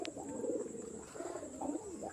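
Ghanbaji pigeons coo softly at night, with a few low, rolling coos rising and falling close by over a quiet background.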